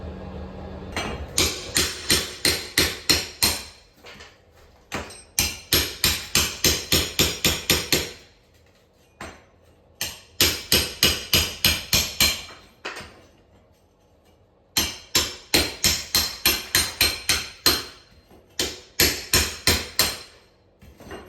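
Old floor tiles being broken up with a hammer during a homestead floor demolition, heard as rapid bursts of sharp, loud, close strikes in clusters of about a dozen, separated by short pauses, with no talking.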